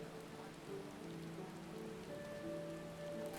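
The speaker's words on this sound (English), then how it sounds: "Hey, it's raining here, too." Steady rain in the Final Fantasy XIV video game, a faint even patter spread across the whole stretch, with soft sustained background music tones and no talk.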